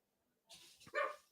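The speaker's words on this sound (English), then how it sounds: "Dogs are going crazy." Dogs bark in a brief burst, one or two sharp yips rising to a louder bark, heard at moderate distance after a moment of quiet.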